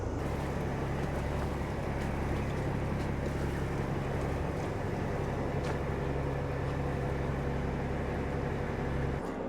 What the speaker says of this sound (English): I'm just going to reverse on the anchor and just dig it in.